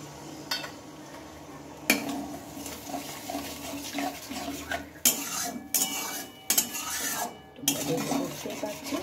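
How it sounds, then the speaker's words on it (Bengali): A little water goes into a prepared spice mix in a cooking pan, followed by intermittent scraping and stirring against the pan, with short rasping strokes and clinks at close range and no talking. "এবার হচ্ছে আমি খানিকটা জল দিয়ে নেব, বেশি না, অল্প একটু জল দিয়ে নেব।"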